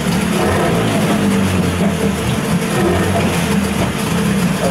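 A CG Marine 9.9 hp electric-start outboard motor runs at raised revs, giving a steady, loud, continuous engine drone with a low hum throughout and no one speaking.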